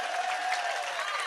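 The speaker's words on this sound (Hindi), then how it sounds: "ताली बजाओ यार एक बार ढंग से।" Steady audience applause at a live Hindi comedy show, dense and continuous clapping from a crowd filling the whole stretch without pause.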